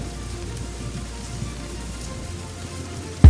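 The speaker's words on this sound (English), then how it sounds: "Job walks into the rain" Rain falling in a storm, a soft, steady hiss of drops on surfaces, continuous and fairly faint throughout.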